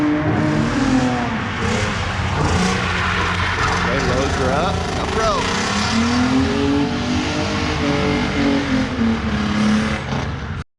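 A Nissan G35 with a VQ engine drifts at a Halloween open drift event at Evergreen Speedway, its engine revving and droning loudly through the run, with an announcer talking over it.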